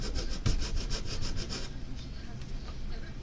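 Sanding tool rubbed back and forth on a toy store diorama piece, a close, steady series of about a dozen scratchy strokes that stops partway, followed by quieter handling.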